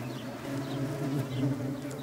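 Communal wasps buzzing in flight near their nest, a continuous wavering drone with shifting pitch as insects move close by, moderately loud against a soft outdoor background.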